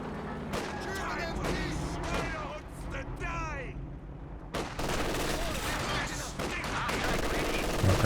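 Machine gun fire and other gunfire from a video game rattle in bursts under a commentator's continuous talking, with scattered blasts throughout.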